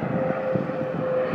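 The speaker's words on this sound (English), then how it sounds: "there goes our first airplane in our video" A low, droning airplane engine hums steadily overhead with a faint tonal whine, no voices present.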